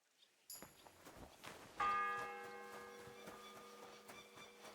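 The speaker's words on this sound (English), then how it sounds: "The first bell." A church bell in the medieval video game Kingdom Come: Deliverance 2 gives one strong toll that rings out and slowly decays over several seconds, preceded by faint clinks and footsteps.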